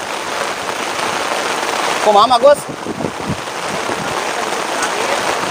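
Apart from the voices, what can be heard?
rain falling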